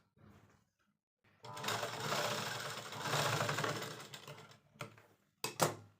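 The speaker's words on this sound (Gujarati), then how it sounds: "હવે આપણે એને ચેન પર સિલાઈ કરવી છે।" A sewing machine stitches thick sofa fabric onto a zipper, a close, steady mechanical whirr running for a few seconds, then stopping, followed by brief clicks and one more short burst.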